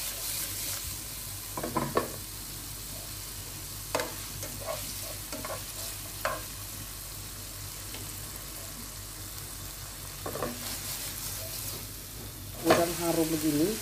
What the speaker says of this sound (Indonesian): setelah bawang putih harum kita masukkan tauco terlebih dahulu ya, sehingga dia digoreng sebentar